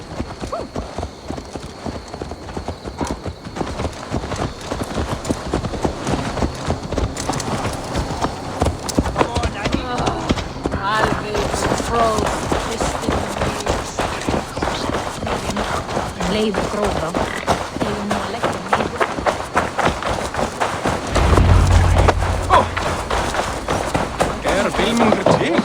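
Horse hooves clip-clop in a steady trotting rhythm in the Assassin's Creed Valhalla video game, with a snort near the end and game voices speaking over the hoofbeats.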